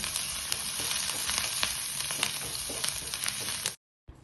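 Green chili and finely chopped aromatics frying in hot oil in a pan, a steady close sizzle with faint crackles throughout, cutting off abruptly near the end.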